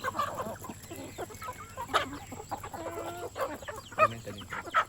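Rooster and hens on a hill farm, clucking in short repeated bursts amid a busy rural soundscape with other birds and faint background noise, no talk heard.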